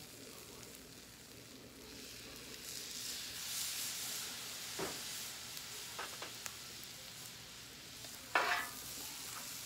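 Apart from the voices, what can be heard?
hibachi stir-frying with soy sauce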